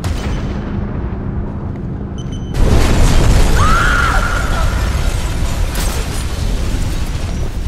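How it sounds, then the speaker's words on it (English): An oil truck explodes on a bridge in Batman: Arkham Origins, a sudden loud booming blast that rolls into a long roaring rumble with crackling debris and a brief metallic screech, continuing as a heavy wash of noise. "Source of explosion was an oil truck on the bridge surface."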